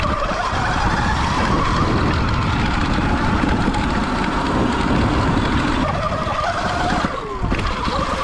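A Sur Ron X electric dirt bike rides over ice with a loud, continuous motor whine and tire rumble. The pitch rises and falls briefly near the end as the rider moves across the frozen surface.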